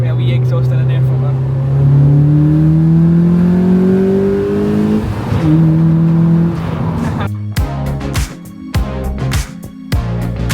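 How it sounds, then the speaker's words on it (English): A Mazda MX-5 with an aftermarket exhaust and air filter revs up through the gears with rising engine tones, loud and close, then gives way to rapid choppy bursts of engine noise with talk mixed in. "it's an MX-5 with a wee exhaust and an air filter."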